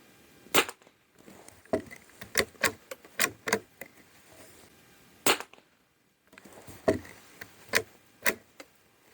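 Sharp, close gunshots from a Norinco JW-15 .22 rifle firing CCI standard ammunition: about a dozen crisp cracks at irregular intervals, with a brief pause partway through.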